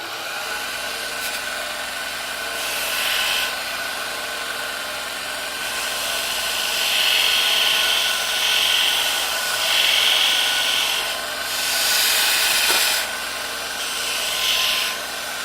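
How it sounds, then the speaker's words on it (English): A belt sander grinds down the rear of an Easyboot Fury hoof boot, a steady motor hum with repeated louder rasping bursts as the belt is pressed against the boot. "So kick the belt sander on here."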